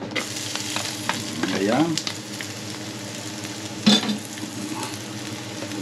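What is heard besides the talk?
garlic frying in a pan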